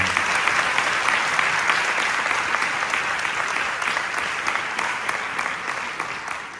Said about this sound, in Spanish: Puri Carrión y Laureana Descalzo. Un aplauso.